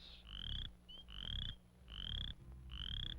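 A spring peeper and a chorus frog call for mates in spring, giving four clear rising peeps in a steady rhythm over a low rumbling background.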